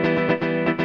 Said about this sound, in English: We should try to bring up distortion just on the Chuck strumming channel.